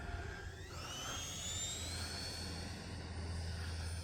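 E-flite 90mm Viper RC jet flying past at quarter throttle, a whining ducted-fan tone that rises and sweeps by overhead, fairly distant, over a low steady outdoor rumble.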